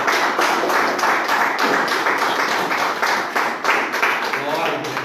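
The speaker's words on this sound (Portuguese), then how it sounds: "Vamos receber isso com as palmas" A church congregation clapping together in a steady, rhythmic beat, loud and close, filling the room with repeated hand claps.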